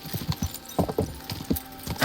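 Quick irregular hoofbeats clop along, a horse moving at a lively pace, fairly close with a faint jingle of tack.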